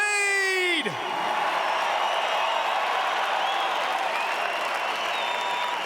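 At the end of a sung note, a large crowd at a Melbourne Supercross event roars with applause, whoops and cheers for rider Chad Reed, a loud wash of clapping and yelling that holds steady throughout.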